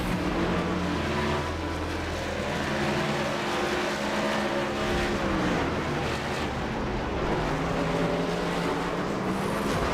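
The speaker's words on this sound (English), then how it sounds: "We're truck racing." Simulated NASCAR truck race engines in the iRacing game at Talladega make a steady, loud, continuous drone that shifts pitch slightly throughout, with no voices over it.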